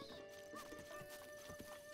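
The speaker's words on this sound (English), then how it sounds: "I spooked the horse." A horse in a Zelda video game near a stable, giving a brief whinny among light clip-clop hoofbeats, moderately faint and without talk.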